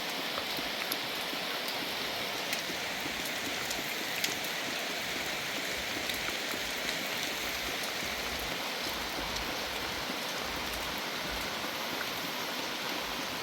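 The year's first rain falls steadily, a dense, even hiss of drops that stays constant and fairly soft throughout, with no voices.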